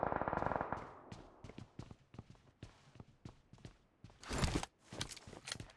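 Video game gunfire from Mini-14 and M4 rifles: a run of sharp, faint single shots at an irregular pace, closing with a denser, louder burst.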